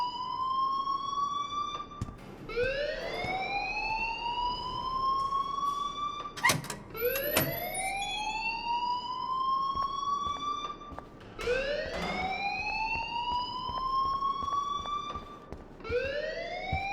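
A school alarm in the video game Life is Strange Remastered sounds as a repeating rising electronic wail, each sweep climbing in pitch and restarting every few seconds, steady and clear with no talking.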